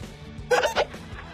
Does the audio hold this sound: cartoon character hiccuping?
yes